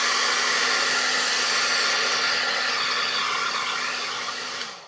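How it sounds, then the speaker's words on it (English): A hairdryer drying paint blows with a steady high-pitched whir and airy rush, then winds down as it switches off at the end. "I'm going to use a hairdryer just to speed things up."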